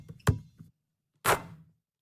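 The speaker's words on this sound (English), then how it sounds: "the swish sound is something that any basketball player" Basketball dropping through the net on an outdoor court: a sharp swish near 0.3 seconds, then a second, longer swish around 1.3 seconds, both close and fairly loud with quiet between them.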